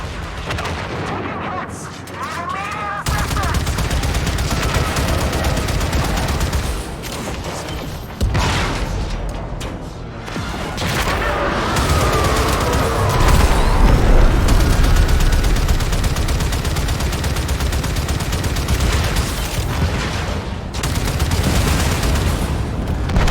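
Heavy cannon fire from the Railjack ship in Warframe booms repeatedly amid continuous loud combat noise and mechanical whirring, with players talking over the barrage.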